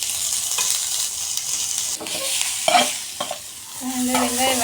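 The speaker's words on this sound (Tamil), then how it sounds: "வெங்காயம் வதங்கிடுச்சு." Onions sautéing in a pan, a soft steady sizzle with occasional stirring scrapes and clinks, close and fairly quiet.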